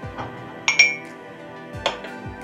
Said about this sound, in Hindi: कि झाग बनाना बहुत ज़रूरी है, तो इसके साथ हम इस तरह बीट करते रहेंगे।